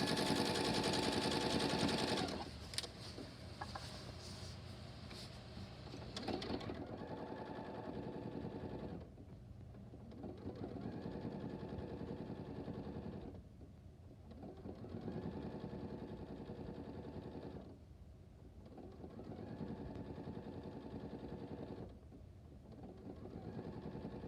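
Sewing machine stitching a pillowcase, running in steady motor bursts of a few seconds each with short pauses between, close and alone.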